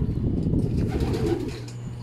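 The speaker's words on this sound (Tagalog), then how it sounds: "mukhang gutom na rin yung mga ibon dito" Pigeons coo in a low, steady murmur among the birds waiting to be fed, with a dense, continuous rumble of overlapping calls close by and no talking.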